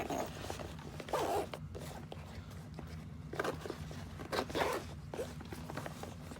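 The zipper on the external rear pocket of an Alpha One Niner AMBIT Dopp kit is pulled in several short, close rasping strokes, with soft handling rustle between them.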